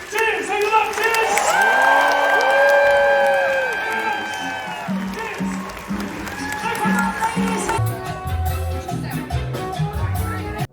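A crowd in a cruise ship show venue claps and cheers loudly with whoops, the applause fading into scattered clapping and chatter toward the end.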